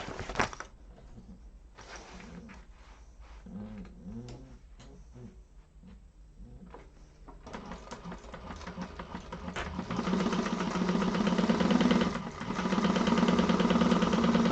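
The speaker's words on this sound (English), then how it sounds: "let's sew this first side on first" A sewing machine stitches the first side of a project in a sewing class. Quiet handling sounds come first, then a steady whirring motor hum starts and runs continuously to the end, growing louder.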